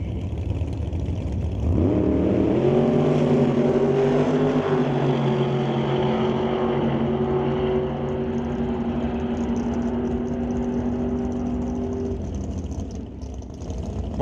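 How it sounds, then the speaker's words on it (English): Drag racing at Mission Raceway Park: a 1954 Studebaker with a 598 cubic inch big block Chevy and a 632 cubic inch Chevelle make a loud, sustained engine roar that rises, holds steadily, then fades away. "Mark Thompson brings up the Marvel Racing Studebaker with that 598 cubic inch big block Chevy motor from 1954"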